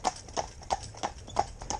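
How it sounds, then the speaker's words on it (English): Horse hooves clip-clop in a steady trot as a cob pulls a driven cart, six evenly spaced hoofbeats ringing out clearly with no talk over them. "I think my horses, when you see them on the films, they love what they do."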